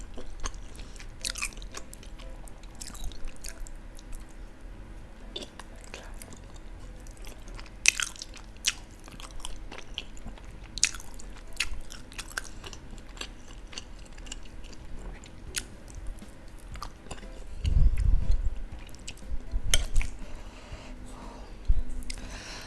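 Someone eats jumbo siomay with plenty of peanut sauce, with close, soft chewing and biting, occasional crunches and breaths, and a louder bout of chewing near the end.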